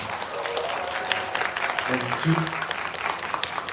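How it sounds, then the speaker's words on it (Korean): A theater audience applauds at a voice actors' stage greeting in a COEX cinema, steady dense clapping throughout with voices briefly rising over it midway. "여러분 큰 박수 한번 부탁드리겠습니다."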